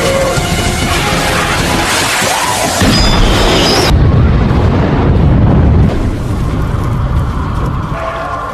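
An LPG gas cylinder explodes among zombies in a film scene, a loud booming blast followed by a sustained roaring rumble of fire and debris that fades out.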